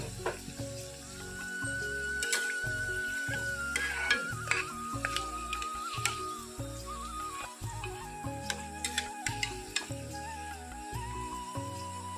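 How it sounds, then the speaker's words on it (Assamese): Samosas (singara) frying in oil over a low flame, a steady close sizzle with scattered crackles and pops running throughout, plus faint tonal hum in the background. "আৰু এনেকৈ মই গোটেইখিনি কম জুইত ভাজি ল'ম।"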